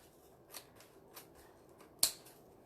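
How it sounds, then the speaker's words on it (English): Metal craft scissors slide in under ribbon on a door wreath, giving a few faint scrapes and snips, then one sharper, brighter snip near the end. "So I can slide my scissors in."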